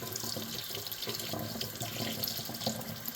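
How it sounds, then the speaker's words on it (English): Tap water runs steadily and loudly into a sink over a ZeroWater filter, splashing continuously with no voices. "take your sink and just run a bunch of water"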